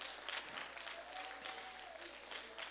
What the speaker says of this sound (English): Somebody clap their hands to him.